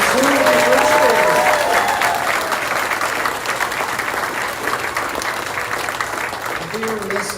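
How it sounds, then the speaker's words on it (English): Loud audience applause fills a kindergarten end-of-year concert at an elementary school, steady clapping sustained throughout with brief tonal voices or music at the start and end. "Big round of applause for our kindergarten and first graders."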